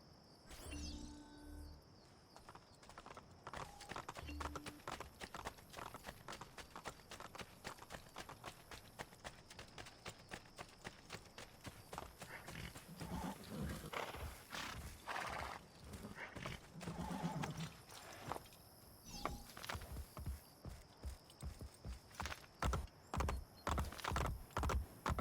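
Horses gallop and neigh in the Assassin's Creed Brotherhood video game, with a rapid, steady clip-clop of hooves running throughout and a whinny near the start, all moderately loud and without talk.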